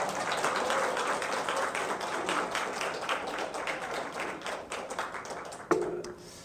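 A church congregation claps during a Sunday worship service, steady dense clapping at moderate distance that carries on evenly, then stops abruptly near the end with a sharp final sound.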